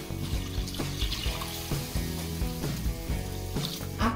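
About 1.5 litres of water pour steadily into a pan from close by, giving a continuous splashing flow that lasts throughout.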